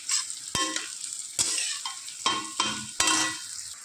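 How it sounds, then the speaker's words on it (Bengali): Young spinach is stirred in a hot wok, with a sharp scrape or clatter about every second over a continuous sizzle, close and fairly loud, and no talking. "দেখো কড়াইয়ে জাস্ট একটুখানি নেড়েছি,"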